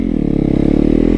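A torquey beginner motorcycle engine revs up close and loud, a throbbing, rapidly pulsing exhaust note held for about a second with no talking.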